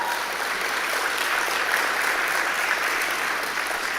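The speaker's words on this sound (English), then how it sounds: "big round of applause" Steady, dense applause from a large audience at an agricultural investment event in Jamaica, sustained and even in loudness throughout without a break.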